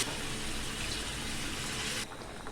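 Water gushes steadily into a pot of browned meat for a bhuna gosht, a loud continuous pouring rush that stops abruptly near the end.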